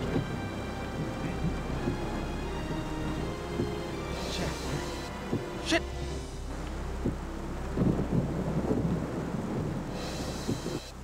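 Steady rain hisses and patters close by, with low rumbling underneath and occasional gusts of wind noise.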